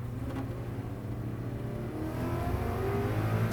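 A Steeda Q500R Mustang race car accelerates hard through the final corners of a road course lap at Homestead Speedway, its engine a steady loud roar that swells and rises in pitch across the clip, with no voices.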